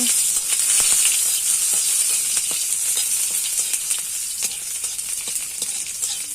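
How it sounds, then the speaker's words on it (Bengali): Cumin seeds and onion sizzle in hot oil while dal is being prepared, a steady bright hiss dotted with sharp crackles and pops, close and unaccompanied by voices. "কটা জিরা ফোড়ন দিলাম, আর একটু পেঁয়াজ দিলাম তেলের উপরে।"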